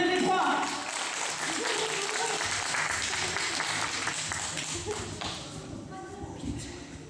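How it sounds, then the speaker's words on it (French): An audience claps for a collection at a presentation, a burst of applause that is loudest at first and then slowly thins out, with talking mixed in. "On applaudit la collection P1, P2, P3."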